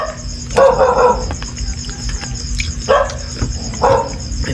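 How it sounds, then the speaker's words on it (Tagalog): A dog barks in three separate bursts, each a short cluster of barks, near and fairly loud, over a steady background of night insects. "Yan yung tumatahol mo ito."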